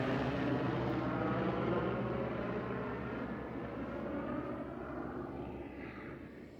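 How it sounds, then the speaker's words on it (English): Grand Canyon tour helicopters fly overhead in the desert near Las Vegas, making a steady, moderately loud engine rumble and whir that slowly fades as they pass, with no voices. "There's the Grand Canyon Tour helicopters."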